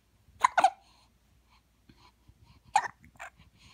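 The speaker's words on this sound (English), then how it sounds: "What is with those hiccups, huh" A newborn baby hiccups in short, sharp bursts: two quick ones close together early on, then another pair later, with soft breathy sounds in between, close and fairly quiet.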